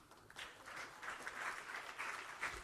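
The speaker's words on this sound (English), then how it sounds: "Wow, applause, beautiful." Applause at a spiritual talk on holy water. Faint, distant clapping continues for a few seconds after a brief quiet start.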